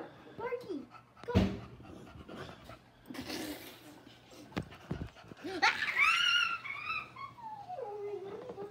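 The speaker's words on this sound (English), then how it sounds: "Start jumping over her and flipping and dipping and barking." A dog pants and lets out high whining whimpers nearby, mixed with rustling, thumps and a person talking.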